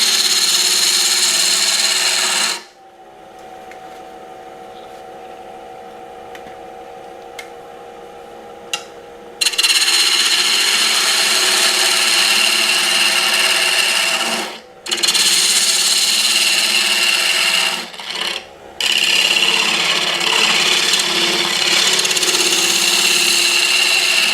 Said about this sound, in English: I usually use a spindle gouge. So it's a 3/8 inch spindle gouge.